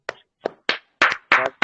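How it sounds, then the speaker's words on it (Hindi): A few sharp, separate hand claps at a speech event, where the audience welcomes the speaker. The claps come irregularly, close and fairly loud, with short silences between them. "जोरदार तालियों के साथ सर का एक स्वागत करेंगे"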